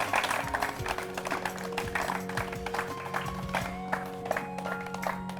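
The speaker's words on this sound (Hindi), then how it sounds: "जोरदार तालियां हो जाए इनके लिए" A village crowd in Baghpat, Uttar Pradesh applauds a quiz show contestant with faint, scattered handclaps over a steady tonal hum in the background.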